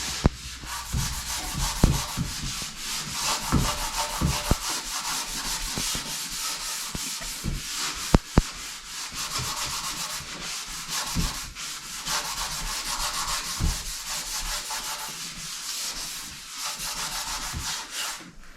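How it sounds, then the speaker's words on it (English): A hand-held sanding pad loaded with hemp oil buffs over a milk-painted wooden china hutch, making continuous close scrubbing and rubbing strokes with occasional small knocks, no voices. "I'm just loading up my sanding pad with some hemp oil, and I'm just going to buff it in"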